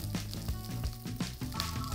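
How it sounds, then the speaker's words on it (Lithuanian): A cabbage steak sears in a hot pan at high temperature, giving a steady close sizzle with faint tonal hum and a few soft knocks, no one speaking. "dedu visą taip kopūsto steiką ir apkepinu ant pakankamai aukštos temperatūros"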